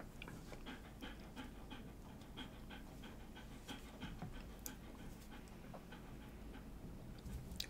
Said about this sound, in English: My dog stresses when there's storms.